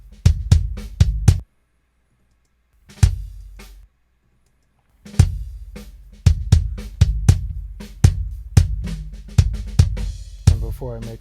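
A raw drum kit with no drum bus processing plays tight, punchy hits in bursts, kick and snare strikes with cymbal wash, broken by two short silent gaps before a steady groove resumes.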